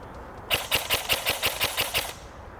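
A G&G L85 A3 airsoft rifle fires a rapid burst of about nine evenly spaced sharp shots, close and crisp, followed by quiet.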